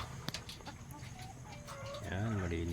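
Chickens in a backyard poultry pen, clucking and calling at close range, getting louder and more vocal toward the end against a steady background hum.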